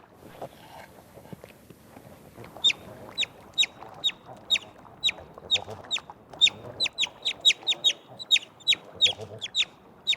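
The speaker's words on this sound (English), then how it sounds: "With loud chirps, it calls for its mother." A lost predator pup in the Yellowstone wilds calls for its mother with a run of roughly twenty sharp, high chirps. They begin a few seconds in, come loud and close in a quick, uneven rhythm, and sit over faint rustling.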